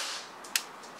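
A single quick, sharp crack from an EMG Hudson airsoft pistol firing one shot, brief and fairly close, set against a steady hiss of background noise with no talking.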